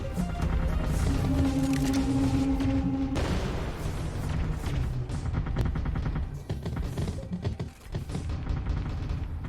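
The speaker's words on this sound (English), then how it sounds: "I like the flak." Flak guns fire in the strategy game Artificial Extinction as a dense, continuous barrage of rapid bursts and booms, loud and steady over a low rumble, with a brief sustained tone early on and no talk.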